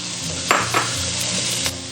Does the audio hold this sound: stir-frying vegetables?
yes